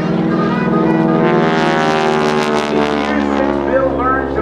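A restored 5,500-pound North American T-6 Texan climbs over the top of an aerobatic loop at an air show, its propeller engine a loud, steady, throaty drone that holds for the whole stretch.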